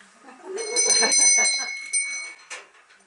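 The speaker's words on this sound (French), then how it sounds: "Maintenant, je prends la cloche." A hand bell rung at the close of a handover ceremony, several bright clanging strokes ringing out, with a couple of later strikes as the tone decays, close by and clear.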